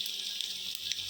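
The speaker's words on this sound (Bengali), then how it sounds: "তেলে ভাজা হচ্ছে, দেখেন" Small sea fish fry in hot oil, giving a brief, steady, bright sizzling hiss with a few soft pops, close by and moderately quiet.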